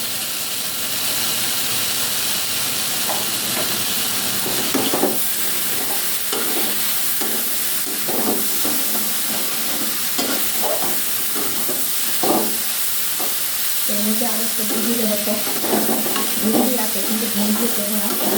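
Water spinach frying in ghee in a pan, a loud continuous sizzle and hiss with repeated scraping strokes of a spatula, steady throughout.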